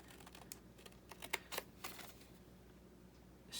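Scissors cutting straight through scored paper while making craft pockets and journal spots, heard as a quiet run of small snips and crisp clicks up close, fading to quiet near the end.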